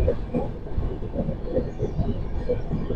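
The Purushottam Express pulls into Purulia Junction, its railcars rolling with a steady, rumbling clatter of wheels close by, continuous and fairly loud.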